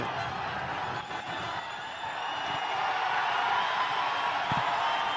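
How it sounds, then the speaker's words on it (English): A cricket crowd at a Nepal versus USA league match roars and cheers after a boundary, a broad sustained wash of noise that swells louder toward the end. "The roar gets louder. The crowd erupts in joy."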